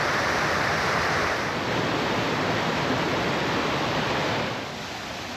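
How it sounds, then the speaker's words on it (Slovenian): A small artificial waterfall at the Martuljek falls in the Upper Sava Valley of the Julian Alps pours with a steady, close, full rushing hiss that holds even and loud before easing slightly at the end. "Prihajamo v del, kjer sta dva umetno zgrajena slapiča."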